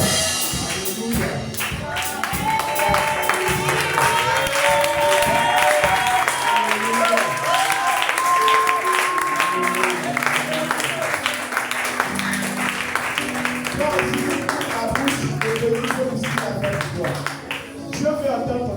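A church congregation applauds and cheers together during a New Year's Eve consecration service, a dense sustained wash of clapping and voices with music and singing running through it.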